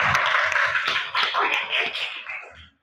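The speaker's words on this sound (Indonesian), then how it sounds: "Tepuk tangan buat kita semua." A classroom of children doing a rhythmic patterned clap, bursts of hand claps and taps in quick groups, close and fairly loud, ending abruptly.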